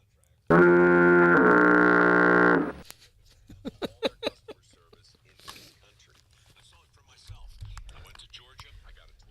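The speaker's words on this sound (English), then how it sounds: "The foghorn." A loud, deep foghorn blast holds steady for about two seconds, followed by quieter clicks, taps and scattered noises.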